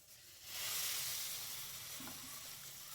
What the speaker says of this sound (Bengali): কড়াই গরম হয়ে গেছে, এবার এর মধ্যে আমি তেল অ্যাড করে দিচ্ছি।